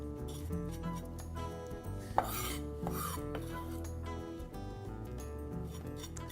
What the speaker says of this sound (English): Now I'm just going to run my knife through those as well